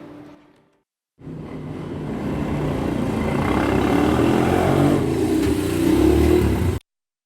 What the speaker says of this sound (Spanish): esa tarde, llegaron 2 hombres en motocicleta,